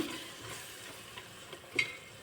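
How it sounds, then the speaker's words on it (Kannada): Thick yogurt is stirred into egg biryani masala frying in a clay pot, giving a soft continuous sizzle with a few scraping stir strokes, quiet and close, with no talking. "ಮೊಸರು ಹಾಕ್ಕೊಂಡು ತಿರುಗಿಸ್ಕೊಳ್ತಾ ಇದ್ದೀನಿ"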